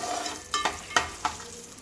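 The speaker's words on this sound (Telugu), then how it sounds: "పల్లీలు అయితే వేగాయండి" Peanuts fry in hot oil for a tempering, crackling softly while a spoon scrapes and taps the pan three or four times in quick succession.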